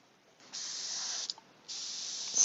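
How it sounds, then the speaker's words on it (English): An airbrush sprays paint for miniature painting in two steady hissing bursts with a short break between them, close and fairly quiet, with no talking. "Let's see if this thing is actually still spraying okay."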